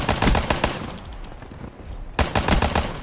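Rapid pistol fire from dual akimbo handguns in the first-person shooter Black Ops 3, loud bursts of shots at the start, a brief lull, then another quick string of shots near the end.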